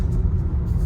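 A 2020 VW Jetta R-Line with the 1.4T engine and six-speed manual cruises in fourth gear at low revs, giving a steady, close low-frequency engine and road rumble that holds level throughout with no talk.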